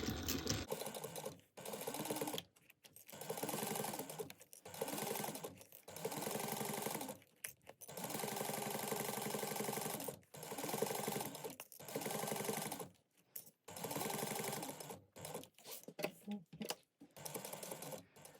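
Sewing machine stitching down both sides of a fabric strap at an eighth-inch seam, running in steady bursts of rapid mechanical whirring separated by brief pauses, close and alone.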